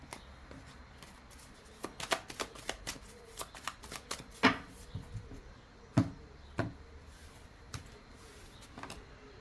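Tarot cards are shuffled and drawn by hand, close and fairly quiet, a series of quick riffling snaps and soft slaps spaced irregularly, with no talking.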